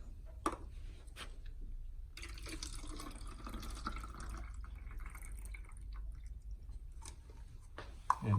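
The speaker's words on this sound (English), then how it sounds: "Now I get this water out to this cup." Tap water is poured into a cup, a steady close trickle and splash running for several seconds, with soft handling clicks at the start and end and no talking.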